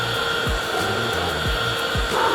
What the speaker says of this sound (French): Si tu souffles, essaye de souffler.